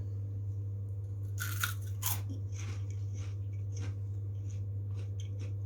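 Crunching on potato chips during a tasting, several crisp bites in a cluster followed by lighter chewing crunches, close and fairly quiet over a steady low hum.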